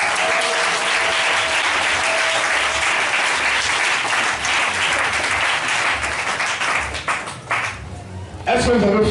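A church congregation applauds and cheers at a French-language worship service, giving sustained loud clapping mixed with shouts. The applause thins out near the end, and a voice briefly breaks in.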